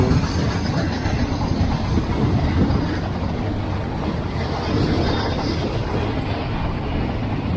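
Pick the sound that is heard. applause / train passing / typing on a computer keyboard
train passing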